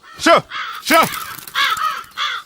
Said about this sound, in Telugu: కాకులు